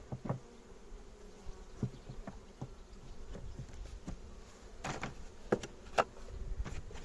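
Honey bees buzz around an open hive during an apiary inspection, a faint steady drone with occasional louder passes and light knocks of frames and boxes nearby, no voices.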